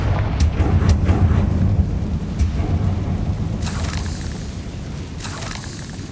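Confringo spell explosion in Hogwarts Legacy: a deep, rumbling boom that rolls on and slowly fades, with a few sharp crackles at the start and fizzing bursts later.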